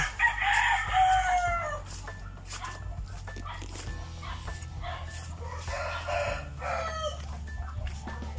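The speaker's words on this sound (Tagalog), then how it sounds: "Marami pang mga manok diyan." A rooster crows near the start, followed by chickens clucking and a dog barking against steady outdoor background noise.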